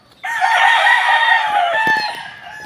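A pure Golden Boy Sweater gamefowl rooster from Red Game Farm crows once, loud and close, a long drawn-out call with a few faint clucks as it trails off.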